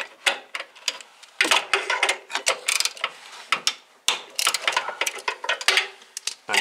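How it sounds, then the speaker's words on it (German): Ratchet loosening the timing belt pulley bolts on a Fiat/Ford 1.2-litre engine, with rapid bursts of close, loud metallic clicking separated by brief pauses. "dann könnt ihr hier die Schrauben aufmachen"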